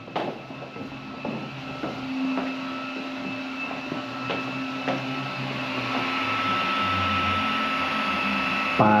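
A 3D printer prints a canopy mount for a Mobula8 drone, giving a steady, close mechanical whir with shifting motor tones and occasional ticks, continuous with no talking.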